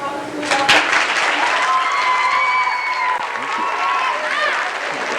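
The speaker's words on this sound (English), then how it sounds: "So please give a nice round of applause." Middle school students at an assembly clap in a sustained round of applause that swells and holds steady, with shouts and a few tonal whoops rising over the crowd.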